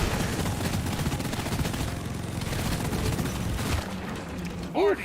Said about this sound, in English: it just takes a while for my gun to spin up too